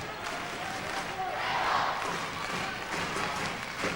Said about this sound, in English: See, the crowd are giving support now.